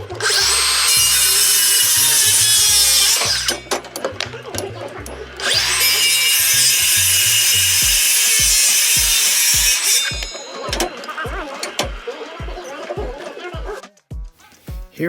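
A power saw cuts wooden barge rafters for a shop roof, loud and close, with two long screaming cuts separated by clattering, then a run of rhythmic knocks and bangs as boards are handled.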